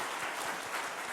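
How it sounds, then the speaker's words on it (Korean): A short burst of dense, steady clapping from a church congregation, bright and continuous throughout. "우리 하나님께 영광의 박수 한번 하겠습니다"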